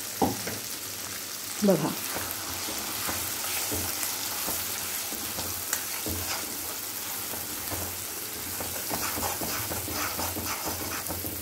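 Dosa chutney sizzles steadily while being sautéed in oil in a pan, a continuous frying crackle with occasional stirring scrapes, and someone speaks briefly over it.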